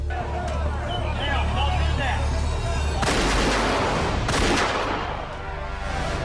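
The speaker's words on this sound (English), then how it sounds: "The officers at the scene had no choice whatsoever but to fire." Police officers opening fire at a scene, a burst of loud cracking gunshots that rings out and fades, heard over a noisy background with voices.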